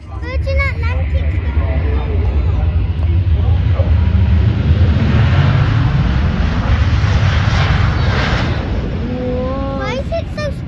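Airliner jet engines at Manchester Airport give a loud, continuous roar that swells toward the middle, and people talk over it at the start and end.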